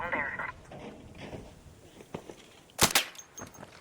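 Gunfire from the video game ARC Raiders: scattered sharp shots, with one loud burst standing out, under ongoing talk from players.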